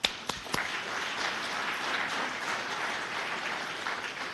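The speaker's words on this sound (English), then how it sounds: "Let's give that a round of applause." A crowd applauds steadily at a city address in Cupertino, California, a dense wash of clapping that starts with a few sharp claps and holds at an even level.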